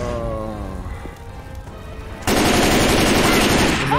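Gunfire in Left 4 Dead 2 starts as faint scattered shots under game ambience, then bursts into a loud, dense automatic volley for the last two seconds.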